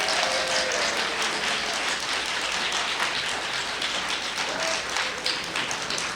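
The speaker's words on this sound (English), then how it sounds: "But right now we're going to thank them with joyous, like crazy, wild applause." Audience at a town candidates' night in Moraga breaks into steady, dense applause, a continuous wash of clapping from a roomful of people heard close and fairly loud with no talking.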